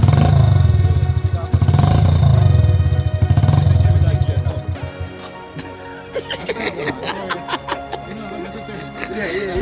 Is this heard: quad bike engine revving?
yes